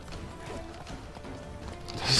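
Horse hooves clip-clop at a steady rhythm in The Witcher 3 as the rider fights from the saddle. The hoofbeats are fairly soft and sit under a continuous bed of game ambience.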